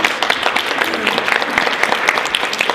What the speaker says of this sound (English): A round of applause for Carol and the ladies at